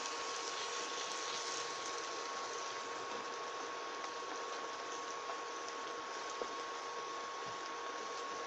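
Baby bok choy sizzling in a pan as liquid is added to deglaze, a steady close hiss and bubbling that holds evenly throughout with faint clicks, no talking.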